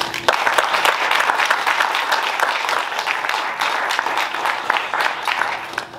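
Round of applause from a gathered crowd at a ribbon-cutting for the High Desert solar-plus-storage facility, dense rapid clapping held steady and fairly close for several seconds.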